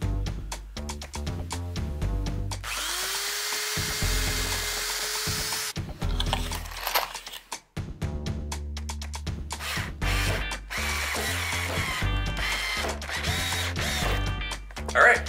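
A drill drives screws into wooden ledger boards on shelf boards for galvanized pipe kitchen shelves, with repeated close, loud bursts of whirring broken by short pauses and a rising tone in one burst.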